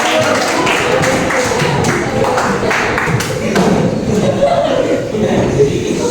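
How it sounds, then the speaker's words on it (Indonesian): A classroom of students claps in a run of quick, close taps during a lesson, with chuckles and laughter mixed in, the clapping fading after a few seconds. "Oke, tepuk tangan."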